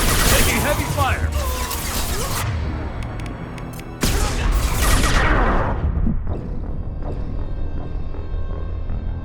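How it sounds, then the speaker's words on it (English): Heavy gunfire and explosive crashes in a Mass Effect 2 combat scene, loud and dense bursts throughout, with a sharp blast midway and battle chatter from voices layered over the shooting. "Taking heavy fire!"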